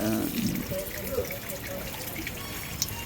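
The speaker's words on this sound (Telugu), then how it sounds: "పాలతోటి వాటర్ తోటి అక్కడ దేవుణ్ణి కడుగుతూ ఇది అవుట్ సైడ్ వస్తాయి నీళ్ళు" Water and milk used to wash a temple deity run out of an outlet in a steady, near splashing flow, with a voice heard briefly at the start.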